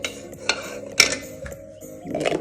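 A spoon stirring tea sweetened with honey in a glass, producing several sharp clinks against the sides at irregular intervals, close and alone.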